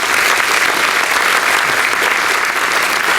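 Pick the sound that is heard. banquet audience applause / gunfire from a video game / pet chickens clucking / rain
banquet audience applause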